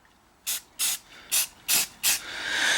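Spray primer from an aerosol can is applied to trailer bolts in five short, sharp hissing bursts in a fairly even rhythm, heard up close, followed by a fainter, longer hiss.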